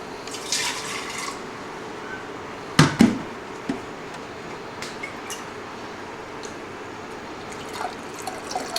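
The last drips and trickles of water kefir fall from a jar, a few sharp splashes and knocks up close among quiet scattered drops.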